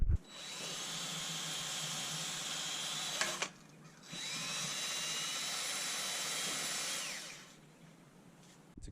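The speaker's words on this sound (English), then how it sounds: "this is just with a wire wheel on the drill" Wire wheel on a power drill scrubs a Toyota 7AGE engine block, a loud steady high whine running in two long bursts with a brief pause between them, then winding down.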